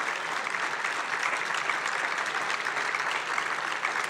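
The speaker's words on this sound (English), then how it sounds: "How about a nice round of applause for John Hasse" An audience at a music talk gives a steady round of applause, a dense wash of clapping held evenly throughout, heard from a distance without pauses or voices standing out.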